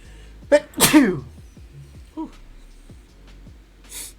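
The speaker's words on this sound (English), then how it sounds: "Sorry for the cut, had to sneeze." A single loud, close sneeze from someone with allergies, with a sharp inhale just before it, followed by quiet sniffles and a soft breath.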